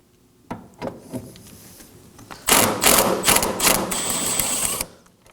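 Rapid mechanical ratcheting as a hand ratchet loosens 10mm bolts on the ABS module bracket of a 2014-2020 Acura MDX, a few short clicks at first, then a loud, dense, close burst of clicking lasting a couple of seconds.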